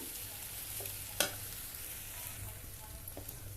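A soft, steady sizzle of drumstick leaves frying in a pan, with one sharp clink of a utensil partway through.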